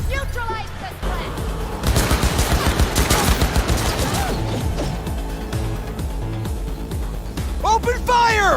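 Sustained gunfire in the video game Cyberpunk 2077, a dense rattle of rapid shots and crashing impacts that builds and stays loud through the middle, with game voices shouting around it.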